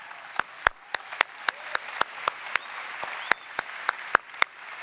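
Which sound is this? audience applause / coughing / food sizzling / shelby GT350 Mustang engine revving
audience applause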